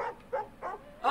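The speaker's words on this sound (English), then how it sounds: "Oh, it's a dog!" A dog barks and yips in a video game, three short bursts in quick succession at moderate volume, with no talking over them.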